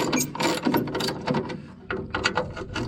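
A ratchet with a 9/16 socket works loose the bolts on a trailer light bracket of an M105A2 trailer, close-up bursts of quick clicking pawl strokes in uneven spurts, alone without talk.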